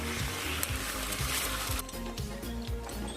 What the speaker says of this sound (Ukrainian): Лию трішечки олії, розбиваю одне або дві яйця, лию сковорідку